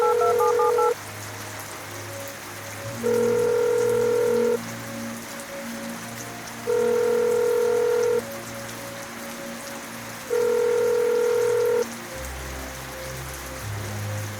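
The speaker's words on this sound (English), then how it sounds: "There's a click, then a dial tone." A steady telephone dial tone sounds in regular bursts, four loud pulses evenly spaced with a quieter hum between them, over a faint rain-like hiss.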